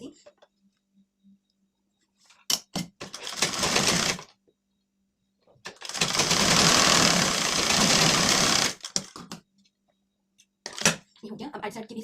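A domestic sewing machine stitches tucks on a lined blouse in two bursts of rapid, steady whirring, the longer one close and loud, separated by quiet pauses with small clicks and handling noises.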